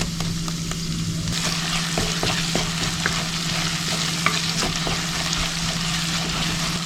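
Crushed ginger and garlic frying in hot coconut oil for a Kerala stingray fish curry, a loud steady sizzle with a low hum beneath and scattered clicks of stirring, no voices.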